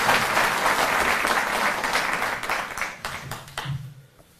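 Enthusiastic audience applause at an outdoor public event in Delhi attended by the chief minister, a dense crowd clapping loudly at first and then thinning out as scattered claps trail off toward the end.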